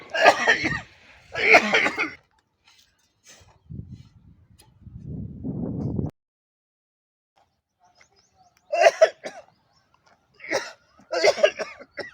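A man in a short-film scene coughs in two separate groups of rough, short bursts, first at the start and again near the end, with quiet stretches between them and no talk over the coughs.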